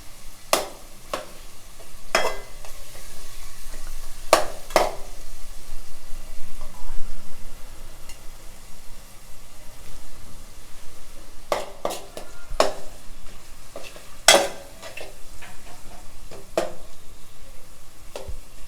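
Fish frying in a pan for Nellore fish pulusu, with a steady low sizzle under repeated sharp clinks and scrapes of a utensil against the pan, close and without talk.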